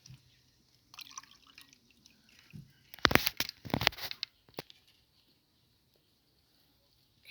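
Water is poured for rabbits to drink, splashing and trickling in a few short bursts close by, with quiet gaps and faint background noise between them.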